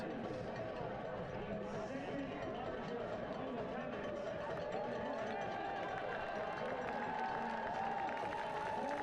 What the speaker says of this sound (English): You can hear the roar from the flock